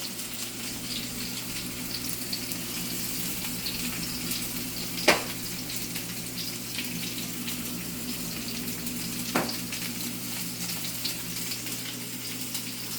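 A bison burger patty sizzles and hisses steadily in a hot pan, a constant frying wash broken by a couple of sharp clicks and taps, with no talking.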